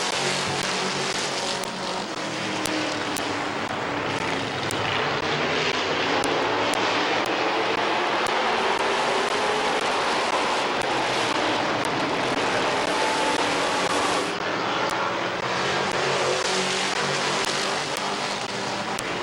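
Race cars roar through a heat race at Midvale Speedway, a dense, continuous wall of engine noise staying loud and steady throughout with no voices.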